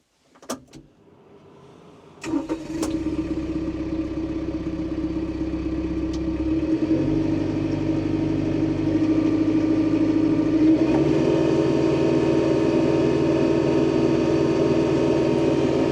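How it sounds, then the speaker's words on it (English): A TYM tractor engine cranks and catches after a few clicks and knocks, then settles into a steady, even idle that grows slightly fuller, heard close by with no one talking. "I forgot to start it for you, let you hear that engine."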